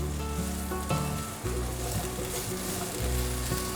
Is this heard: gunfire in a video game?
no